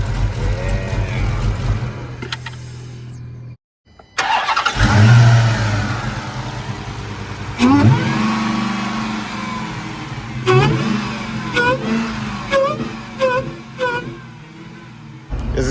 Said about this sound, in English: The supercharger sounds loud as hell just now